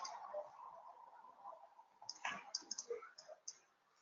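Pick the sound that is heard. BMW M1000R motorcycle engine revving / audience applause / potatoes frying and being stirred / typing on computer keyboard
typing on computer keyboard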